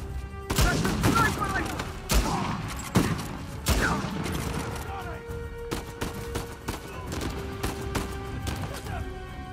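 Shotgun blasts in Uncharted 4: A Thief's End, several loud, heavy booms spaced a second or so apart amid other gunfire and combat clatter, with someone talking over the action.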